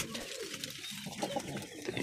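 Pigeons cooing in a hot rooftop loft, soft low coos and bird calls close by under broad background noise, with no speech.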